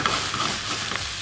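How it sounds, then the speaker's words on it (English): Vegetables caramelize in a pan with a soft, even sizzle and faint crackle, close and steady for a brief moment with no voices. "now I have to be patient for about 10 minutes until I have this perfect caramelization of my veggies. As you can see, it is already started"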